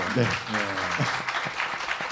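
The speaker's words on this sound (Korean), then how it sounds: "제가 사실은 박수를 좀 부탁드리려고 했는데 먼저 박수를 다 주셨습니다" Audience applause rattles on at a talk concert celebrating a university history department's anniversary, a dense patter of clapping under a voice speaking briefly.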